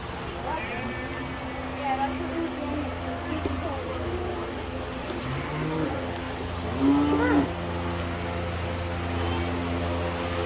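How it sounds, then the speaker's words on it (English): Hereford cattle low now and then against a steady hum of fans at a fair, with a louder moo near the end and people talking quietly in between. "Here's the Hereford."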